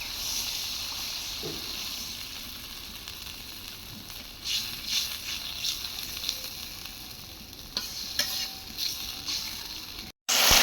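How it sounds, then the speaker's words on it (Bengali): Water is poured into frying spice masala in a village kitchen, giving a steady hiss and sizzle with a few sharper crackles and stirring clatters, without talk. "এখন দিয়ে দেবে একটু কষানোর পানি"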